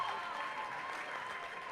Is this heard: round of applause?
yes